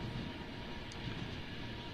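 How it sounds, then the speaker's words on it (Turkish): Steady low rumble of the Tehran–Shiraz sleeper train rolling through the night in Iran, a continuous broadband roar heard from inside the carriage with no distinct clacks or voices. "Şiraz trenindeyiz"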